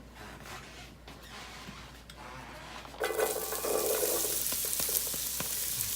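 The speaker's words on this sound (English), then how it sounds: "we're going to sweat our onions. And we're going to cook down" Onions dropped into hot olive oil in a pan to sweat alongside mushrooms; quiet handling sounds give way halfway to a sudden, sustained loud sizzle with occasional stirring clicks, no talking.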